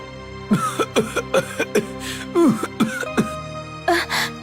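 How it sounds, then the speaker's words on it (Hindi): A man coughs loudly in a rapid series of harsh bursts, pausing briefly before a final couple of coughs, with musical tones underneath. "राजा जोर से खांसने लगता है।"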